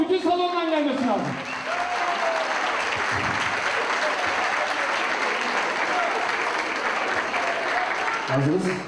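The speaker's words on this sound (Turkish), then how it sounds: "alkış bu kadar mı? Bütün salondan gelmesi lazım." A wedding hall audience breaks into loud, sustained applause that fills the room, dense and steady, with a voice briefly heard at the start and end.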